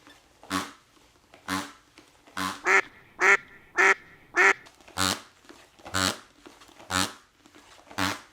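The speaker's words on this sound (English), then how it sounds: "The fart sound of the Rocky DVD." A series of short, nasal, duck-like blurts from a Rocky DVD box set repeats at a steady pace, about ten in all, each brief and close, with quiet gaps between.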